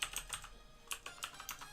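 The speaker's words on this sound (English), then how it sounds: "So here we're going to type" Fingers tap quickly on a computer keyboard, a close, quiet run of crisp clicks in short uneven bursts with a brief pause in the middle.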